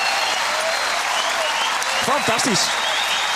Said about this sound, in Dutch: Ja, iedereen gaat hem klappen.